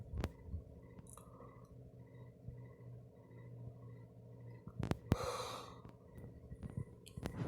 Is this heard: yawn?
yes